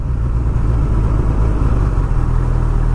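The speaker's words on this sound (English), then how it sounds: "Wait for this car to come through." A car rolling past near a stopped 2019 Honda CB1000R Plus, with loud, steady low engine and road rumble mixed with the idling motorcycle, no talking.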